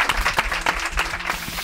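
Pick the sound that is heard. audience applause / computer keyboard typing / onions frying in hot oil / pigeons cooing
audience applause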